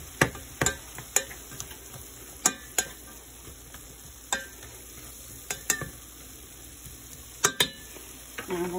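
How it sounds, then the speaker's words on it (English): Chili mince frying in a pot on the stove, a steady sizzle broken by sharp clinks of a utensil scraping and tapping the pot, close and moderately loud. "You can hear it kind of frying."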